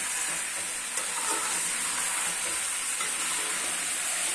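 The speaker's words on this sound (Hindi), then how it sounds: "थोड़ा सा आलू भी भून लेंगे।" Potatoes roasting with chicken in a karahi for restaurant-style chicken karahi, an even steady sizzle with faint stirring clicks, moderately loud and continuous, without talk.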